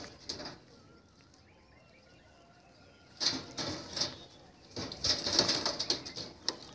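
Show Madras pigeons in a loft, with faint low cooing and a few soft bursts of wing flapping, quiet and intermittent against a still background.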